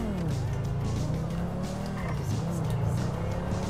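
A car in GTA V during a police pursuit spins round, its engine droning loudly and steadily throughout, with tire noise blended into the continuous roar.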